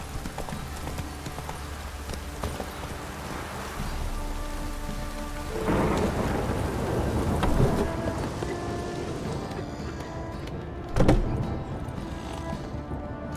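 Steady heavy rain pours down in The Witcher 3: Wild Hunt with a rumble of thunder, while horse hooves clop along nearby and a sharp crack stands out near the end.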